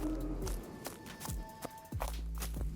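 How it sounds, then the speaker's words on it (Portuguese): Running footsteps at night beside a car stopped on a swampy roadside, several distinct thuds landing in an uneven rhythm and drawing closer, with steady low background rumble and no talk. "começou a ouvir o que parecia ser alguém correndo"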